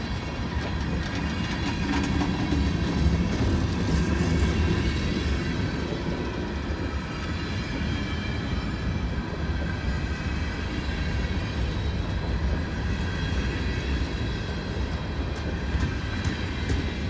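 A long freight train rolls steadily past during heavy snow, a continuous loud rumble of wheels and rail clatter filling the whole stretch with no voices.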